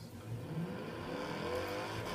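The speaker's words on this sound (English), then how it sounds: "My car sounds so good." A car engine in the video game Forza Horizon 3 drones steadily and revs slightly, a continuous low motor sound with no talking.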